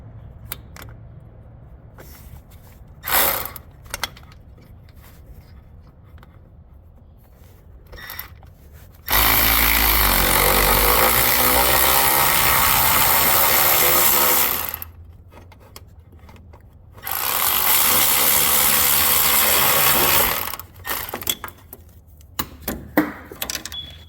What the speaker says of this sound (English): I'm not going to put a lot of torque on this cheap ass Milwaukee ratchet